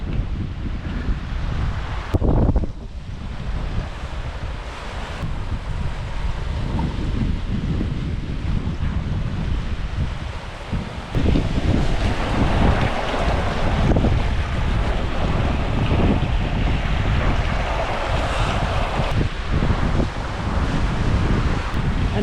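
A sailboat running at about six knots under mainsail alone, with loud, constant wind buffeting and the rush of waves along the hull. Gusts swell and ease throughout, and a sharp knock comes partway through.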